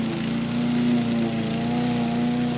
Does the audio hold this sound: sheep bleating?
no